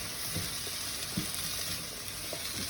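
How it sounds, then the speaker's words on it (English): Chopped bell pepper sautés in a hot pan, a steady close sizzle with faint scrapes and pops scattered through it, no one talking. "we're also going to just let this saute for a little bit before we add our ground beef"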